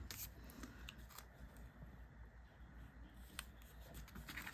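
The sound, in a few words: scissors cutting card for a stamped note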